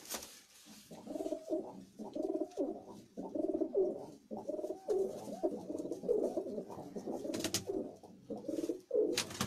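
Domestic pigeons kept by a breeder coo steadily in repeated rhythmic bursts, close and fairly loud, with no talking over them.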